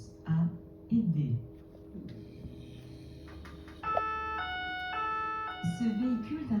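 An emergency vehicle's two-tone siren wails steadily and fairly close in the second half, mixed with passing traffic, after a stretch of talking.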